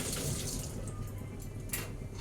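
Water runs from a tap while a young boy is bathed, a soft, steady splashing flow that is fairly quiet and continues for the whole short stretch.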